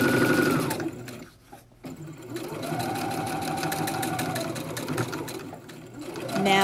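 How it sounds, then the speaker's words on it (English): Sewing machine stitching the bottom seam of a fabric face mask, close running bursts of rapid needle chatter with a brief pause near the start and shifting speed as it goes over a lump. "I'm going to stitch the bottom seam first"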